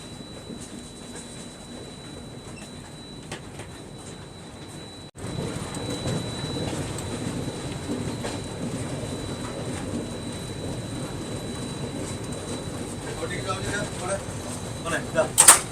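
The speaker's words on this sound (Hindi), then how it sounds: "अब जाके अपनी ट्रेन बढ़िया स्पीड अप हो रही है" The Kanyakumari Express passenger train rolls along the track with a steady rumbling wheel noise that grows fuller partway through as it picks up speed, heard from onboard.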